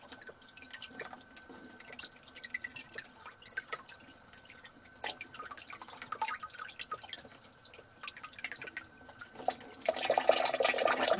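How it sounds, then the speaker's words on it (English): Tap water runs and drips into a sink as raw chicken is rinsed before baking in an RV toaster oven, a light irregular trickle and splatter that swells to a steadier, louder gush near the end. "I'm going to rinse off my chicken"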